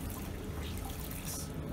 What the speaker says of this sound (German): jedes Material, was wir aufziehen, tun wir als erstes einmal ins warme Wasser rein.